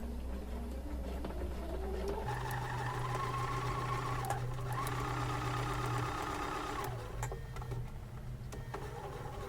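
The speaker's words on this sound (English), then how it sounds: "I'm going to overlap my stitching just a little bit," A sewing machine stitches a quilt seam for a star block. It hums and whirs steadily and up close, changing speed partway through, with faint ticking from the mechanism.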